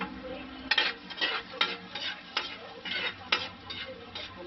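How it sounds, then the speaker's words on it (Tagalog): Garlic frying in hot cooking oil in a pan, a steady close sizzle with repeated scraping stirs and clinks of a utensil against the pan. "Tapos, pag mainit na siya, lagay na natin yung bawang."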